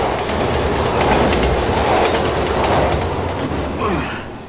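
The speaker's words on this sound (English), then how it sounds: "Train's coming!" In the Resident Evil 6 video game, a train rumbles close by, its loud clattering wheels and a rolling roar filling the scene and swelling, then easing, with a brief wheel squeal near the end.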